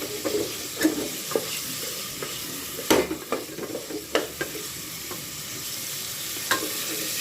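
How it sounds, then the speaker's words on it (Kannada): Onions, ginger and garlic fry over a high flame for chicken donne biryani, a steady close sizzle broken by irregular scraping stirs and light clatter against the pan. "ಇದು ಈರುಳ್ಳಿ ಎಲ್ಲ ಹಸಿ ಸ್ಮೆಲ್ ಹೋಗೋವರೆಗೆ ಚೆನ್ನಾಗಿ ಫ್ರೈ ಮಾಡಿಕೊಂಡು"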